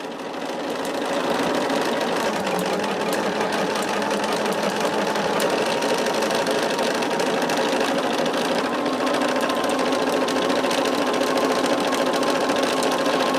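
Close and steady, a sewing machine stitches continuously around the edge of a mini quilt, its motor drone and rapid needle rhythm running unbroken for over ten seconds with no voices.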